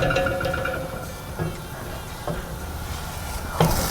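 A Crunchwrap Supreme sizzles steadily as it toasts in a pan under a pan used as a weight, with a continuous close crackle and a few soft knocks and scrapes.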